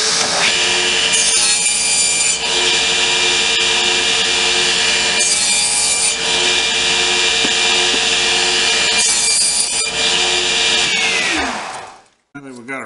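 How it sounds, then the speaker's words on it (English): A saw cuts through plywood in a loud, continuous whine of blade and wood, close by and steady for several seconds before spinning down and stopping. "Now that we've got our plywood cut,"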